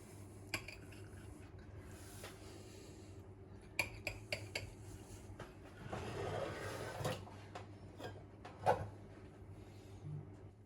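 A knife cuts through an eggplant tarte tatin on a plate, giving scattered sharp clinks and taps, then a louder scraping stretch and a few final metallic knocks, all fairly quiet.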